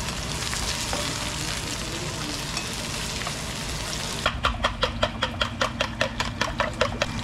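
Onions frying for scrambled eggs, a steady hiss that shifts partway into a fast rhythmic series of sharp scraping clicks, close and even.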